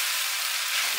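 Ingredients stir-fry in a chili oil base, producing a dense, even, close sizzle that holds steady for a moment with no talking.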